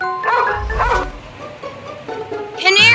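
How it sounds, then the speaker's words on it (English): A dog gives a few close, sharp barks and yips, with a whining edge between the louder bursts. "Dog."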